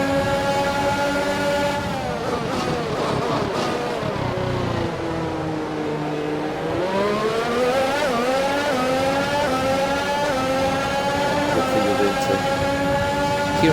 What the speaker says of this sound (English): you can hear the sound of the Mercedes engine